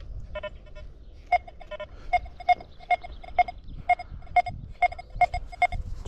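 A metal detector gives a string of short electronic beeps in an outdoor dig, about a dozen sharp, evenly pitched tones at an irregular rhythm over faint background noise.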